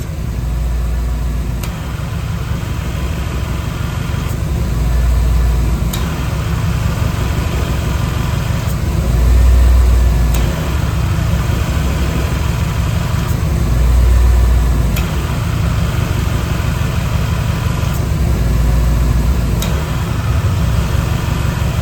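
A V8-swapped Chevy S10 engine idles steadily during an AC recharge, a loud continuous low rumble with the compressor clutch cycling in and out every few seconds, no talking.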